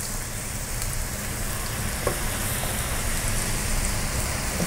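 Shrimp sizzling in a stovetop pan while cooking pad thai, a steady dense frying hiss with a few faint clicks from a spatula turning them.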